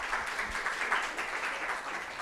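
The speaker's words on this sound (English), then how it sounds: "let's give a round of applause to Gleb." Conference audience applauding after a presentation, a dense even patter of many hands clapping together, moderately quiet and sustained from start to finish with no talk on top.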